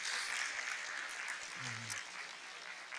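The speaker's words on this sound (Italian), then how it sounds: "Un applauso e un saluto." Applause in a hall for a young future entrant at a spaghetti bridge competition, a steady dense patter of many hands at moderate distance, with a brief voice cutting in midway.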